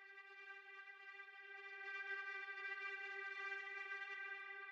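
A steady, sustained granular synth drone made from a string sample, with a rich, string-like harmonic tone, soft and even, swelling slightly halfway through.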